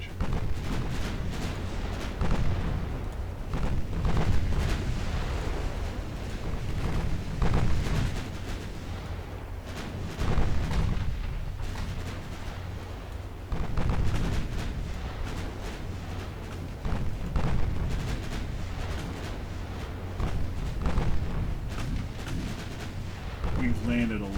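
Naval gunfire booms in the game Ultimate Admiral Dreadnoughts during a 1920 German fleet battle at Heligoland that includes 9-inch guns. Heavy salvos of low thuds roll and rumble repeatedly over a steady background for more than twenty seconds.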